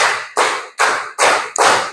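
A group claps hands together in a counted rhythm, five loud synchronized claps evenly spaced about every 0.4 seconds, each ringing briefly in a room.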